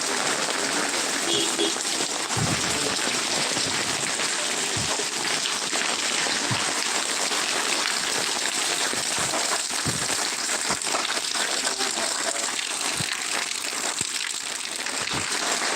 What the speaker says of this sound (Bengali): বৃষ্টি শুরু হয়ে গেছে আর থামবার কোনো প্রশ্নই নেই একই একইভাবে বৃষ্টি হচ্ছে এখানে